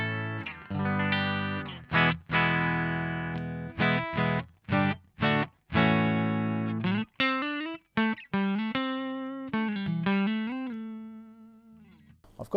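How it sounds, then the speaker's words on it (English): A Fender Stratocaster through a ProCo Rat distortion pedal plays sustained chords and short stabs separated by brief silences, followed by a single held note, heavily distorted. "Today I'm playing my Fender Stratocaster, which sounds like this."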